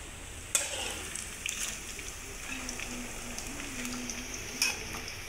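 Leaves sizzling and frying in hot oil in a pan, a steady crackling hiss with a few sharper clinks, close and moderately loud, with no speech.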